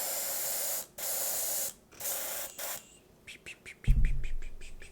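An airbrush sprays satin varnish in three long hissing bursts with short pauses between them, loud and close. A bird's chirps and a brief thump follow once the spraying stops.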